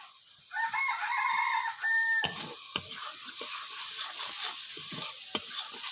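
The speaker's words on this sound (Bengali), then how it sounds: "এই দেখুন মশলাটা ভালো করে কষাতে হবে, এইভাবে এইভাবে মশলাটা কষাতে হবে।" Spice paste (masala) stir-fried in a pan, a continuous sizzle with repeated scraping strokes and sharp utensil clicks, close by, with a rooster crowing faintly early on.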